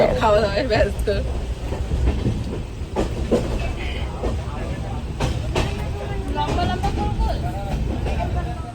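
A train rumbles along with rhythmic rail clatter and clunks, loud and close, while people's voices murmur in the carriage of a train departing Sealdah.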